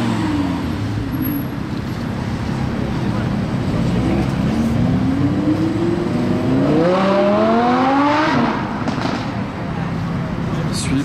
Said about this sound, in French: un autre V10 a démarré derrière nous là